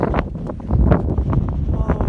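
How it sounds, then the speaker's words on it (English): Strong winter wind in the Eastern Sierra buffets the microphone in loud, rough gusts, a constant low roar with bursts of rustling noise. "it's so freaking windy now"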